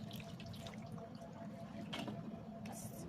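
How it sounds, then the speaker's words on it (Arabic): Half a cup of hot water is poured into a potato baking tray that held chicken, a soft, steady trickle and splash, faint and close, with no talking. "نص كوبايه ميه سخنه"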